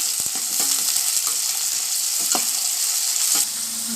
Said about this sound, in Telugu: తగినంత ఆయిల్ వేసుకోవాలి. ఇంగు, చెక్క మొగ్గ, ఆనియన్ కొంచెం వేగనివ్వాలి.